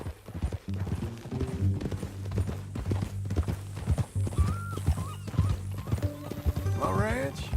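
Horse hooves clip-clop at a steady walking rhythm in Red Dead Redemption 2, with a horse neighing and whinnying toward the end, while people talk over it.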